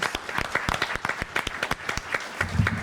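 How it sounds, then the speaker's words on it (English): A crowd claps steadily in sustained applause at a native gardening Q&A event, dense and fairly close, with a low murmur entering near the end. "I would really like to ask you all for a round of applause for Mike and Carol"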